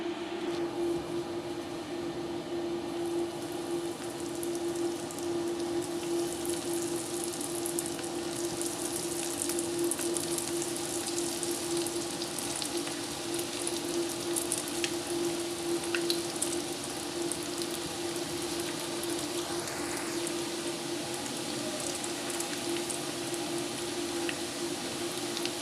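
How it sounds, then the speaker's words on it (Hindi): Homemade green herb chicken nuggets fry in a pan, giving a steady, even sizzle and crackle of hot oil that runs unbroken and alone from start to finish. "नगेट्स हमारे रेडी हैं। फ्राई करना शुरू करते हैं।"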